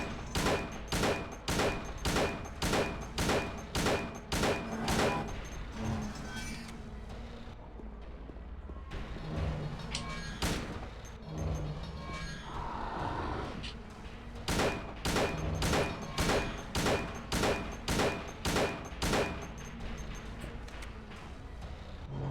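Gunshots in Silent Hill 2 Enhanced Edition, a long run of evenly spaced loud shots, a pause with softer game sounds in the middle, then another steady run of repeated shots, without talking.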